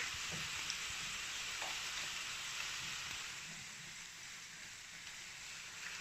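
Chicken and onions frying in a pan for a Moroccan pastilla, a steady, dense sizzle with soft scraping as the mixture is stirred, moderately close and without talk.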